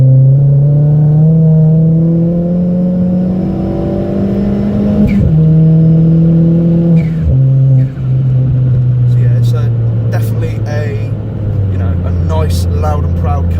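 A stage 3 tuned Ford Fiesta ST pulls hard in third gear on a motorway, its engine note climbing steadily in pitch, dipping briefly at short lifts, and droning loud and close from inside the cabin.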